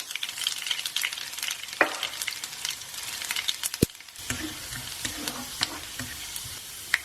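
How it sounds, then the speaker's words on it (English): Mustard seeds and garlic sizzle and crackle in hot melted coconut oil in a pan, a close, continuous frying hiss with scattered pops and stirring scrapes. "once your oil is melted and is hot, we're going to start with the mustard seeds"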